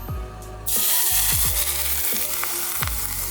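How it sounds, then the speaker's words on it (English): Hot oil poured over Indomie seasoning in a bowl crackles into a loud, steady sizzle with rhythmic scraping or stirring strokes beneath it, heard close up and without speech. "we're gonna put hot oils inside the bowl"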